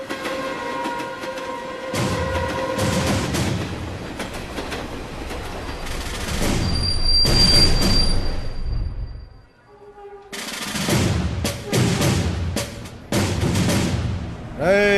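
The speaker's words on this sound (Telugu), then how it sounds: "మన తర్వాత వచ్చిన ట్రైన్ కూడా వెళ్ళిపోతుంది." A train pulls away from a station with loud, rhythmic clattering and rumbling. The noise breaks off briefly in several places, and faint voices can be heard at times.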